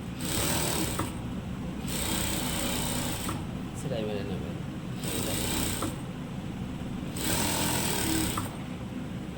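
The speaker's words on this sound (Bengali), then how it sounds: "এভাবে চারি সাইডে মারবেন সেলাইটাকে একটু বাড়িয়ে নিতে পারেন" A sewing machine stitches the lining of a jacket sleeve, running in repeated bursts of rapid mechanical rattling separated by short pauses, close and loud, with faint talk underneath.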